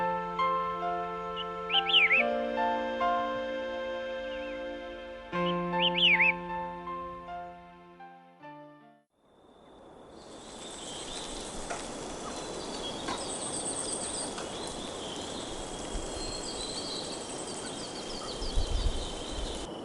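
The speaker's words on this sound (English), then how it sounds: "Birds leap onto the shrubs to celebrate the start of a lovely day." Alpine birds in the Hehuanshan forest give a couple of brief, faint chirps over soft tonal background sound, followed by a long stretch of steady broadband rushing like wind.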